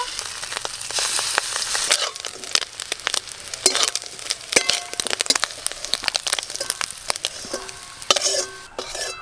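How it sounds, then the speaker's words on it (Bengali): Fritters (bora) fry in hot oil, a loud close crackling sizzle full of sharp pops and spatters, irregular and continuous throughout. "বাকি বড়াগুলো ভেজে নেব।"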